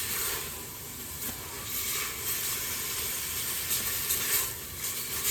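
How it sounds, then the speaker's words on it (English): Sausage for jambalaya sizzles steadily in a hot pan, a continuous close hiss and crackle of frying meat with no talking. "Then we're going to throw in that sausage, and we're going to let the sausage kind of, I don't know, cook a bit more"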